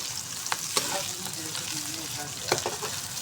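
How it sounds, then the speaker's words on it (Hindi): Tomato curry mixture with onion, chicken and potato frying in a pan, a steady close sizzle with a few scraping stirs. "इसको भी हल्का सा हमने फ्राई करना है ताकि जो टमाटर भी है इसका कच्चापन दूर हो जाए"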